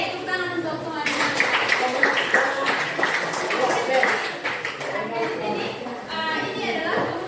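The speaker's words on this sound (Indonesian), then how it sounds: "Oke, tepuk tangan untuk teman-teman." Classmates in a mathematics classroom clapping for their peers, a burst of close, uneven hand claps that starts after a second and carries on amid chatter and voices.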